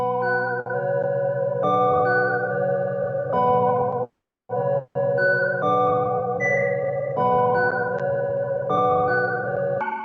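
A beat made in Cakewalk by BandLab, run through the Shaperbox 2 Halftime preset: loud, dense looping chords and bass with a slowed, dragging feel, briefly cutting to silence midway before the groove resumes.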